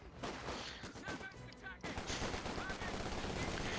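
A Vickers machine gun firing in the Company of Heroes 2 strategy game, dense bursts of automatic fire mixed with other battlefield gunshots, loud and continuous with a short lull partway through.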